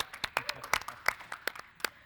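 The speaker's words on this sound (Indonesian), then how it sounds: "Kita tepuk tangan dulu dong buat narasumber-narasumber kita." A few people clapping at a live talk show event honoring the guest speakers, sparse, irregular claps up close rather than a full crowd, fairly quiet.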